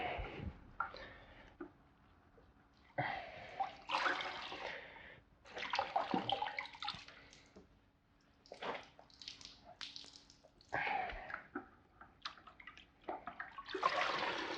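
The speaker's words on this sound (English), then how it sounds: "In between each pass, I'm obviously scrubbing it off on the grit guard and the bucket here." A sponge scrubbed against a plastic grit guard in a bucket of water, in repeated bursts of wet rubbing and splashing with short pauses between passes, close by.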